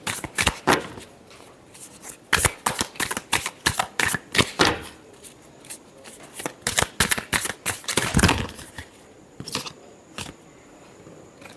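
Tarot cards being shuffled by hand in rapid bursts of riffling and flicking, loud and close, with short pauses between flurries and no talking.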